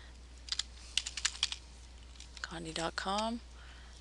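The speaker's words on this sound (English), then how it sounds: "I'm going to type conde.com," Quick, light keystrokes tap out a web address on a computer keyboard in a quiet room, a short burst of clicks followed by a brief spoken phrase.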